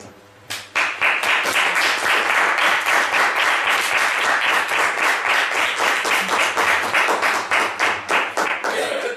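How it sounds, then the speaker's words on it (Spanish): Loud, dense audience applause fills a lecture hall after a talk on military spending, starting with a few claps and swelling into steady clapping that lasts several seconds with no talk over it. "No aplaudáis porque tenemos la segunda parte."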